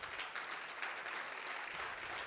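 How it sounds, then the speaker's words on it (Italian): An audience at a literary prize ceremony applauds for the outgoing secretary, a faint, steady, continuous patter of many hands heard from a distance. "vorrei chiedervi un grandissimo applauso per Antonio Canalis"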